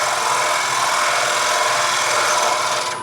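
A gouge cutting into a wooden scoop on a lathe, working from the center outward across a rounded surface, producing a loud continuous rasping, scraping hiss over a low motor hum, steady for the whole span.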